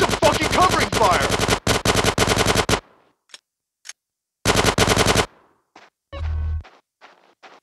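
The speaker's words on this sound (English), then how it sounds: "Give me some fucking covering fire." Machine gun fire in the video game GTA San Andreas: loud, rapid automatic bursts close by, several long volleys broken by short gaps, with a few scattered single shots and a brief low thud.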